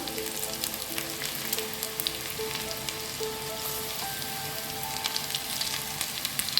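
Banana flower pakoda fritters sizzle steadily in hot oil, a dense continuous crackle with scattered pops, close and even, with no talk over it.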